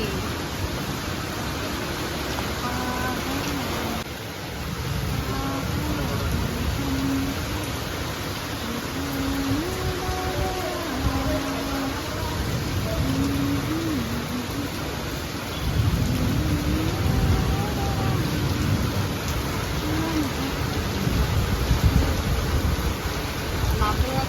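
Heavy rain pours steadily outdoors while lightning flashes overhead, with low thunder rumbling beneath the constant wash; a person talks over it throughout.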